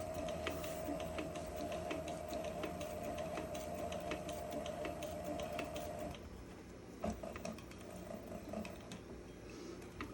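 A Cobra Class 26 leather sewing machine stitches a leather bag with a steady, close mechanical whir and hum. The whir stops about two-thirds of the way through, and a few light clicks and handling noises follow.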